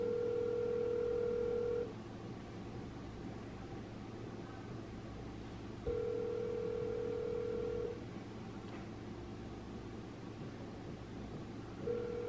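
Telephone ringback tone from an outgoing call: a steady buzzing purr lasting about two seconds, repeating roughly every six seconds, three times, over faint room hum with no talking.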